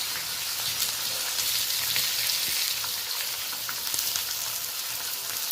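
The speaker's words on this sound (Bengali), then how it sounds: "এই পর্যায়ে আমি প্রথমত পেঁয়াজটা দিয়ে দিলাম" Sliced onion sizzles and crackles in hot oil with bay leaf for a duck curry, a steady dense frying hiss with scattered pops, close and fairly loud throughout.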